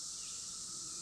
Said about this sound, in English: The cicadas are quieter here than they are in my house.